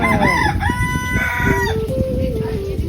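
Free-range village chickens in rural Konkan crow and cluck close by, with long wavering crows over a busy bed of clucks and yard noise.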